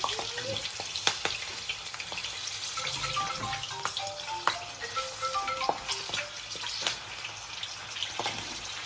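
Oil sizzles and crackles steadily nearby as hand-rolled gathiya snacks fry, with small pops and a few brief clinks scattered through the frying.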